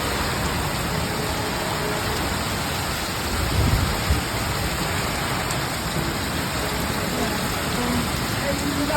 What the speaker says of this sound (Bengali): হঠাৎ বৃষ্টিটা শুরু হয়ে গেল